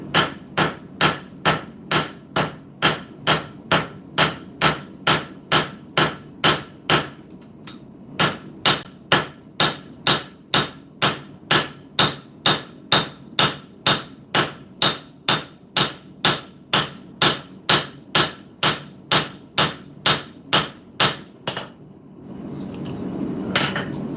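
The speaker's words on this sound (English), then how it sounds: "I'm just forging in that initial little bevel right there" A blacksmith's hammer forges the initial bevels on a knife blade against an anvil, ringing in a fast, even rhythm of about thirty loud, close strikes, with a short pause near the start and quiet at the end.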